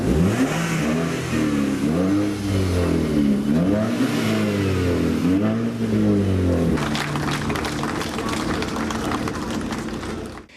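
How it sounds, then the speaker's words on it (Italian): Modified tuning cars gathered outside a church funeral roar and rev hard, engines climbing and dropping in repeated loud pulls before settling into a broad, sustained rumble with crowd noise behind. "il frastuono dei motori delle auto tuning modificate"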